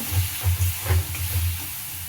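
Ground spices with coriander powder being fried in a little oil in a pan, a soft close hiss with a few low rhythmic thumps of stirring over about two seconds, no voices.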